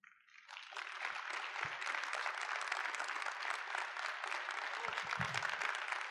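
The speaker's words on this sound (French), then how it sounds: "une bonne main d'applaudissement à notre major" Sustained, dense audience applause for the commander at a 2015 annual review ceremony. It starts after a brief pause and holds steady and loud throughout, with faint voices now and then beneath the clapping.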